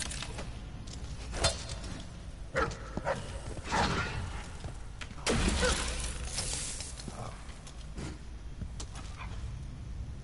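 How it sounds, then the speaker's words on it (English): A dog in the Dishonored 2 video game gives short barks, yips and whimpers over a constant game background. "There's a dog."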